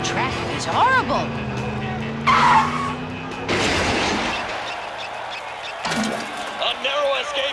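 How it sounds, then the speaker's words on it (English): Cartoon cars in busy traffic: tires screech and skid with engines whooshing past in quick bursts, loud and close, while characters speak over parts of it. "This traffic is horrible."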